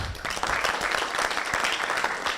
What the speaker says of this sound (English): give me a round of applause, I'm telling you.